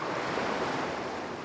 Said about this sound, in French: vous avez le bruit des vagues